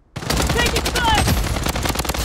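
Rapid automatic gunfire from the Blood Strike Mobile shooter game, a loud dense burst that starts abruptly and keeps rattling without pause to the end.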